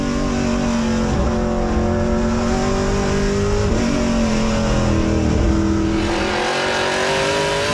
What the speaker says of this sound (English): That is some throaty sounding engines.